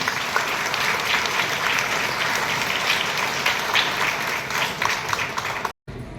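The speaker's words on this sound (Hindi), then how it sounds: "तो एक बार फिर से जोरदार तालियां।" Loud, steady applause from a seminar audience of young people fills the hall with dense clapping that holds evenly, then breaks off abruptly near the end before resuming briefly.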